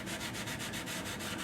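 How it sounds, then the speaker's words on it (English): Wet sanding of a cittern's finish with 600-grit paper wrapped on a block: a steady, close, rhythmic scrubbing with regular back-and-forth strokes, heard alone without voices. "now I am starting to sand this a little bit. I've got some 600 on a block."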